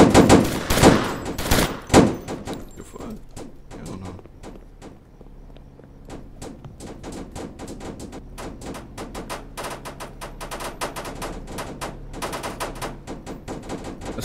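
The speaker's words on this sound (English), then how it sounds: "A lot of gunshots happening, man. It's a drive-by." Gunshots during a drive-by in a video game: dense bursts of rapid automatic gunfire and scattered single shots, loud at first, then sustained irregular volleys at moderate distance.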